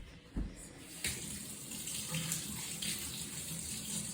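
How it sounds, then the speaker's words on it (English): Tap water runs steadily into a sink during hand washing in a home kitchen while baking deep dish brownies, a continuous close splashing stream with a couple of brief knocks near the start. "I just like to wash my hands."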